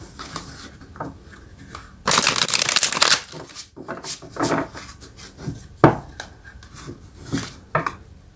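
A deck of tarot cards is shuffled up close: a dense riffling burst, then scattered shorter card slaps and rubs, with light movement and handling noise in between.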